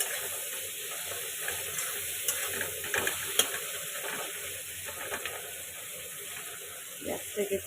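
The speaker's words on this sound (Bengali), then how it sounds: "পেঁয়াজটাকে একটু লাল লাল করে ভেজে নেব।" Chopped onions fry in a pan with whole spices such as cardamom, cinnamon, cloves, bay leaf and dried chilli, for a thin chicken curry. A steady sizzle runs through with occasional stirring scrapes and a few clinks near the end.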